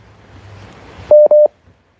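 Two short steady telephone keypad dialing tones beep in quick succession, fairly loud and close, after a low quiet background, as a call is placed to a debate guest.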